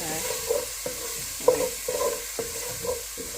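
Blended onion, garlic and rosemary fry in a pan with a soft continuous sizzle, broken every half second or so by close scraping strokes of a utensil stirring the mixture.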